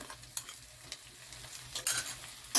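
Boiled mashed potatoes going into a pan over low heat, giving soft scraping stir strokes with scattered clicks of a spoon and a gentle sizzle, louder toward the end, with no voices.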